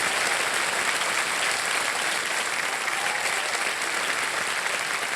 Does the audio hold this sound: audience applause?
yes